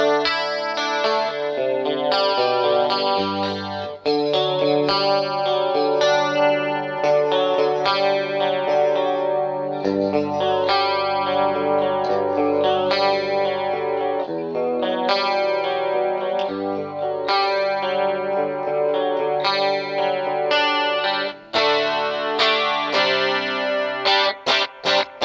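An electric guitar played through a Rockman headphone amp set for a small amp simulation, sustained chorus-laden chords and notes ringing continuously with a slightly driven, compressed tone, no talking.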